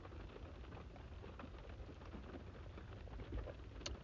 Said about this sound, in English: you hear the pitter-patter of the rain on the window